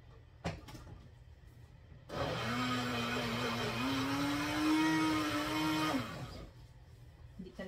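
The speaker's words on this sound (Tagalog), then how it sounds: "talaga heavy duty itong aking blender" A blender starts up and whirs steadily for about four seconds, its motor pitch rising slightly, with clicks before and after and no talking. It is mixing milk and cream for mango float.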